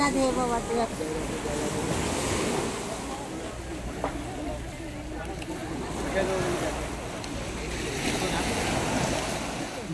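Sea waves wash steadily onto the long bathing beach at Gangasagar, a continuous surf roar with wind noise, lasting the whole stretch and mixed with faint distant activity.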